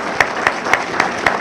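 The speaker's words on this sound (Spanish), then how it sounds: "yo me permito pedirles desde ya un aplauso a todos los funcionarios de la superintendencia" Applause from an audience at a public accountability meeting of a Superintendency of Market Power Control, heard as a short run of loud, evenly spaced claps.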